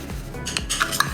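A spoon scraping and clinking against a bowl while mixing dough ingredients with yogurt, oil and salt, a few short, close metallic taps and scrapes sounding alone.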